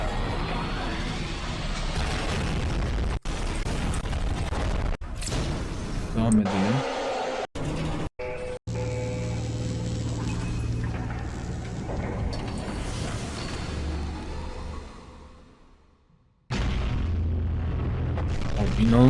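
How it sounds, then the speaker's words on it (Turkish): An animated Skibidi Toilet episode erupts with a huge explosion: heavy booms and rumbling blasts, broken by sudden cuts and a brief near-silence, with voices talking over parts of it. "İnanılmaz büyük bir patlama ya. Atom bombası gibi ha."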